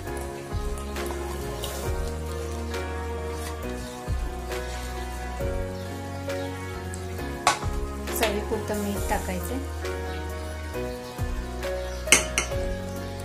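Chopped cluster beans (guar) tipped into a hot pan with vegetables, giving a steady sizzle with clinks and scrapes of a metal utensil against the pan, close and continuous throughout.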